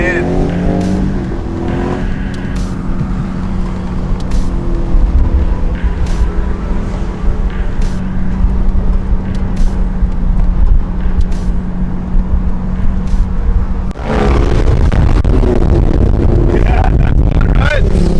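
A Mercedes SLK350 drives along a Hong Kong mountain road. The engine hums loudly and steadily, then surges abruptly near the end as the exhaust swells, and a voice talks over it at times.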